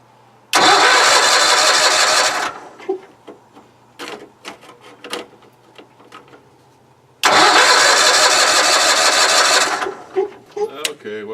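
A sawmill's petrol engine, just repaired after a fuel primer-bulb problem, fires up in two loud bursts of running, each cutting out after a couple of seconds, with clanks and rattles in the gaps between.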